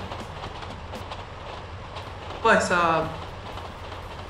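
A train runs along a railway track in GTA San Andreas with a steady low rumble, and a brief louder tonal burst midway. Someone speaks briefly over it.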